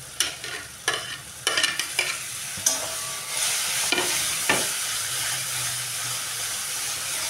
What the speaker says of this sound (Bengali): এবার দিয়ে দেবো আমি আদা।